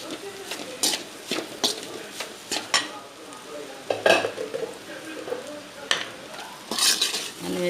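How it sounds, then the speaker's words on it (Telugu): Egg rice being mixed in a hot pan, cooked rice stirred into scrambled egg with repeated scraping and clinking of a spatula against the pan over a soft sizzle, close and moderately loud, with no talking. "అన్నం వేసుకొని ఇట్లా ఇక మంచిగా కలుపుకోవాలి"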